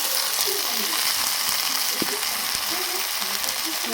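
Potatoes and green beans fry with onions in mustard oil in a wok, a steady close sizzle broken by scraping stirs and light clacks, with a faint voice now and then.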